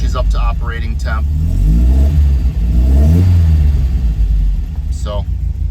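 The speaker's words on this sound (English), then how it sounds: "let her rev some more until she's up to operating temp" A 1971 Alfa Romeo GTV engine revs during a cold start, with loud, rising and falling revs under brief bits of talk near the start and end.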